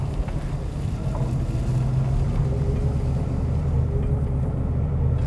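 A 1957 car driving along, its engine drone steady and close with continuous low rumble and road and wind noise throughout, no talking.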